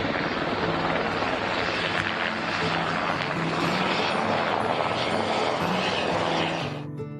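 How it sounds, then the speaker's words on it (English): A helicopter flies with its blades spinning, giving a loud, steady roar of rotor and engine throughout that drops off sharply right at the end. "First up, we have the helicopter. Look at those spinning blades."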